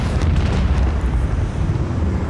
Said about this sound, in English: Macro cannons! Annihilate them!